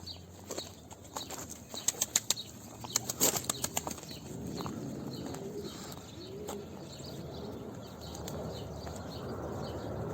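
A pigeon flies overhead in the open air, its wings clapping in a rapid burst of sharp flaps near the middle, followed by softer, lighter fluttering and faint bird sounds against a steady outdoor background, with no talking.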